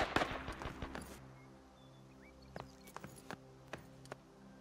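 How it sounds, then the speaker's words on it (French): Scattered faint gunshots in a battle royale video game pop in the distance, a few sharp reports spaced irregularly over a low steady hum. "j'entends des coups de feu là."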